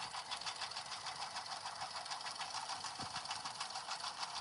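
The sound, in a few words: embroidery sewing machine stitching basic runs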